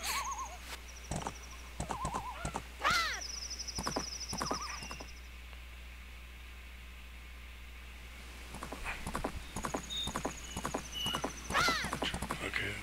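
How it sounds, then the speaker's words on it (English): Hoofbeats clatter in quick bursts alongside a horse's whinny and assorted short game sound effects from The Legend of Zelda: Majora's Mask, with stretches of quieter ambience in between. "No, Lincoln, do not get off the horse."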